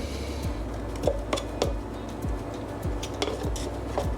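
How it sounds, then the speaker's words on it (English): Homemade pies being lifted from a pie maker with a spatula: a series of light scrapes and clinks, roughly one every half second, close and fairly quiet with no talking. "Get them out with a spatula, they say."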